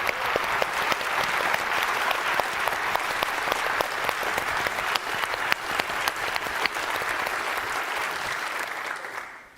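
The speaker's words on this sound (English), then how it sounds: "let's give a big round of applause to this year's President's Innovation Challenge" Loud, sustained applause from a large audience at Harvard's President's Innovation Challenge event, dense crowd clapping that holds steady for several seconds and then tapers off at the end.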